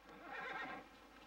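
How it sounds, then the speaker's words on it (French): A horse whinnies once, faint and distant, a brief rising-and-falling neigh lasting about a second over quiet background. "Les chevaux."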